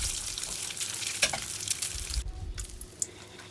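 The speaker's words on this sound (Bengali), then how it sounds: "এই তো আমার লাল লাল করে ডিমগুলো ভাজা হয়ে যাচ্ছে।" Eggs sizzling and frying in hot oil with turmeric in a home kitchen pan, a steady crackling hiss with a few sharper pops, then a sudden drop to quieter frying near the end.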